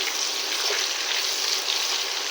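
Onions frying in oil in a pan, a steady bright hiss and sizzle holding evenly without pause, close and moderately loud.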